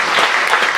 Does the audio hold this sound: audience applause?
yes